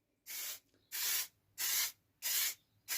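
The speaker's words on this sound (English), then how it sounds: "It's just going to be a simple case of spraying it over like so." Five short bursts of varnish from an aerosol spray can hiss in an even rhythm over a plywood plaque, each about a third of a second, close and crisp with silence between.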